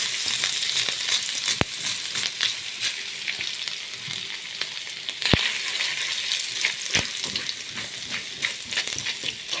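Garlic sizzles steadily in a pan of hot oil for a one-pot moussaka, a continuous close crackle broken by a few sharp clicks of a utensil.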